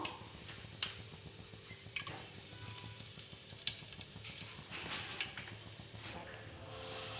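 Whole spices (cinnamon, cloves, cardamom and bay leaf) sizzle and crackle in hot oil for a chapati kurma, a steady frying hiss with scattered sharp pops and light stirring throughout.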